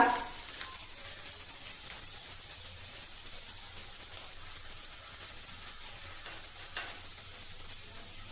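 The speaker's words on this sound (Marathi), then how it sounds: "बघा आपला कांदा आता परतत आलेला आहे।" Chopped onion sautéing in a pan for Marathi-style poha gives a steady, soft sizzle that carries on without a break, with no voices over it.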